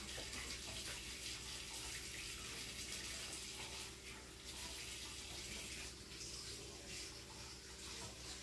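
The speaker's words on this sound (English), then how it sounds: "I'm gonna put a little bit of hot water into my pan just to get it boiling." Hot water runs steadily from a tap into a pan for chicken and rice soup, a continuous broadband splashing hiss, close and quiet, with no talking.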